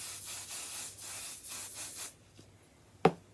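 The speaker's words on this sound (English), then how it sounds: "I'm simply going to spray a little 505 spray onto the wrong side of my square" 505 spray adhesive hisses from an aerosol can onto the wrong side of a fabric quilting square in several short close bursts, then stops, leaving a quiet pause and one sharp tap.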